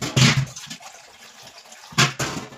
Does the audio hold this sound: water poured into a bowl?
yes